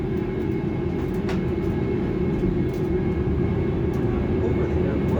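A light airplane's engine runs at full power during a go-around, a loud, steady close drone and cabin rumble that continues throughout with faint clicks.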